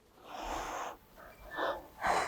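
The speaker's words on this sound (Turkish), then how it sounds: "Karnım içeride nefes verirken" Breathy exhalations during a wall pilates workout, three soft, airy puffs in a steady rhythm, close and fairly quiet with no talk over them.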